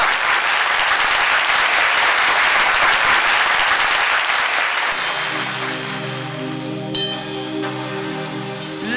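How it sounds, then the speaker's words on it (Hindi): Audience at a televised singing competition bursts into loud, sustained applause for about five seconds before instrumental music takes over. "जोरदार तालियां।"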